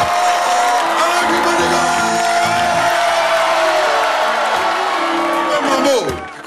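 A theater crowd at a minstrel show in a film cheers, whoops and shouts loudly and continuously, a dense roar of voices with yells rising above it.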